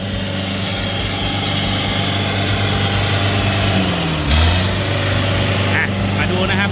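Yanmar 49 hp turbo tractor engine running steadily while being driven, a loud continuous low drone with a brief rise in pitch near the end.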